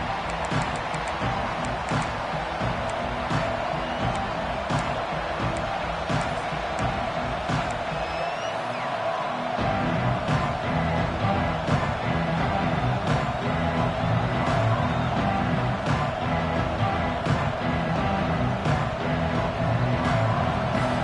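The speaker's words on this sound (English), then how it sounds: "It's early, but this crowd is fired up. Listen to this noise here." A large football stadium crowd at Oregon versus Michigan roars and cheers continuously, a dense wall of noise that swells slightly louder partway through.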